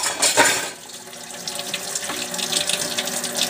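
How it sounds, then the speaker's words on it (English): Hot water gushes steadily from a kitchen tap into the sink for rinsing dishes, a continuous close hiss and splash with a brief louder burst at the start. "you start up your hot water and you kind of rinse everything off"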